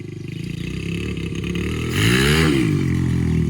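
A Honda CRF100 dirt bike fitted with a NOS kit revs hard and steadily, its engine pitch climbing and swelling louder partway through, close and loud with no talking.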